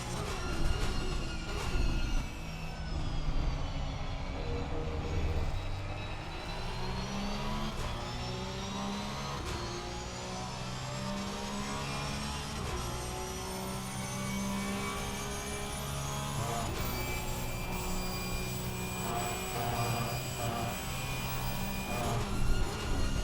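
An onboard race car engine during a sim racing event at Misano, loud and continuous, with rising revs and abrupt gear-change drops repeating through the lap, heard alone without commentary.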